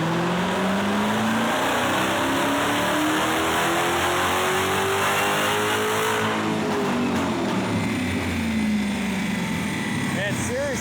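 Dodge Hellcat supercharged engine with stock airbox revving hard, a loud sustained roar whose pitch climbs steadily and then falls away as the revs drop.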